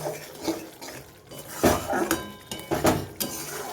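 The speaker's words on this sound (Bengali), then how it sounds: "চর্বিটাকেও মশলার সাথে কষিয়ে নেব" Goat fat pieces being stirred and sautéed with spices in a pan for a jackfruit dish, with clinking and scraping of a metal spoon against the pan in bursts, fairly close.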